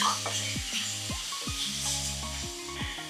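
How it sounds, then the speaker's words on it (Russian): Pork belly fries in a pan with a steady close sizzle and hiss, while repeated scraping stir strokes come through over soft background music. "Пока это здесь жарится, конечно, не забываем помешивать."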